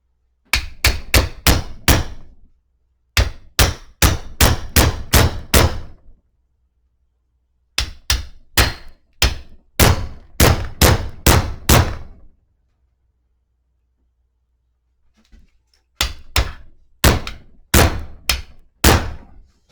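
A hammer repeatedly strikes to drive the front passenger axle shaft out of a 2008 Cadillac Escalade, loud close metallic blows in rapid bursts of several hits separated by short pauses.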